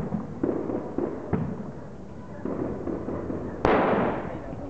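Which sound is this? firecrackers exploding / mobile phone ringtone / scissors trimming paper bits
firecrackers exploding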